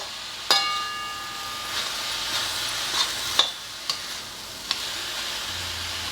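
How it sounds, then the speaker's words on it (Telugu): A coconut and sesame laddu mixture cooks in a pan with a steady low bubbling hiss, broken by occasional sharp clicks and scrapes from stirring, close and alone. "ఇదండి ఇట్లా ఉడుకుతుంది."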